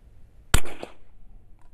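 A single sharp crack from a .22LR rifle fired at an outdoor range, loud and abrupt against near silence, with a brief echoing tail.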